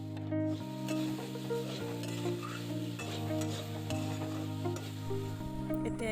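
Grated coconut frying in a kadai for Assamese jika pitha, a continuous close sizzle with rhythmic scraping strokes of stirring, set over a steady low hum.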